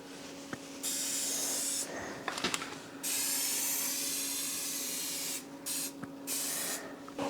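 Spray can painting a small scrap wood project: several bursts of hissing spray, each one to two seconds long, separated by short pauses and faint clicks, fairly close and steady.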